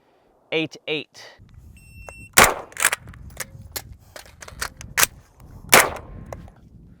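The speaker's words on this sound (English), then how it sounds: "I'm going to shoot one round, transition to my concealed carry and shoot another round" Pistol shots on a shooting range, several sharp loud cracks spaced irregularly, including strong ones near the start and toward the end, with a pair of electronic timer beeps at the beginning and faint background noise between shots.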